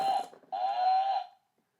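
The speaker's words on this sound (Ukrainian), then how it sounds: "Коровка." A toy or recorded cow lets out a single drawn-out moo with a nasal, bleating tone, preceded by a shorter bleat-like call. Both are loud and close, with no talking over them.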